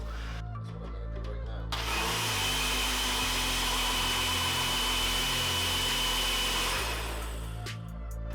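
A blender whirs steadily as it blends a drink until foamy, a loud sustained motor drone with a short lull before resuming, then winding down near the end.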